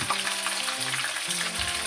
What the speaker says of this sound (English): After this batch, I'm finished frying.